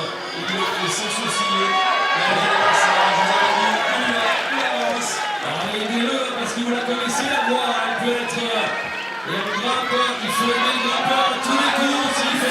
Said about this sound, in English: Every move being cheered on